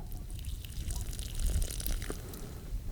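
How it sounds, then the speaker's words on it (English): A little water poured onto clay in Utah's high desert, a faint trickling and splashing patter over low outdoor rumble, with no voices. "So a scientific test of clay, a little water on here,"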